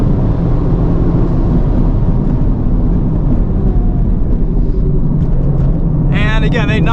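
A 2023 FL5 Honda Civic Type R tuned to 350hp on RE-71RS tires, lapping a track with a steady, loud in-cabin engine and road roar throughout, and a brief voice breaking in near the end.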